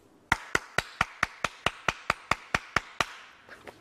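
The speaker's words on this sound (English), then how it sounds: "So if I clap loudly like this" Loud hand claps ring out in a brisk, even run of about a dozen close sharp claps, then two softer ones trail off at the end.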